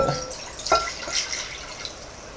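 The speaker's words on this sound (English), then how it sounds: "Next, what you want to do is pour the water into the bowl." Water poured into a bowl, a faint, soft splashing and trickling over a short stretch, quiet and close, with no voices.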